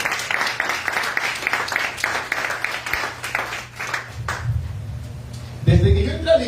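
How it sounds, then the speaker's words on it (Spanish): Audience applause in a church, a dense patter of clapping for about four seconds that fades as low organ or keyboard tones and a voice take over. "darle un aplauso aquí"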